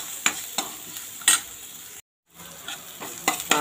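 Onions with turmeric powder sautéing in a pan, a soft steady sizzle broken by several spoon-stirring scrapes, close by, with a brief cut to silence midway.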